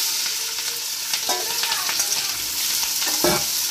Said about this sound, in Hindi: सरसों का तेल, ये अब गर्म हो जाएगा। इसमें मैं देखो डाल देती हूँ जीरा